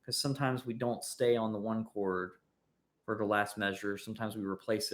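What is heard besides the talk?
No everyday noises stand out.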